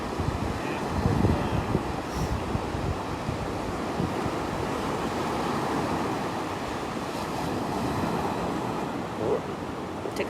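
Ocean surf washes onto a beach in a continuous rushing roar, with wind buffeting the microphone throughout.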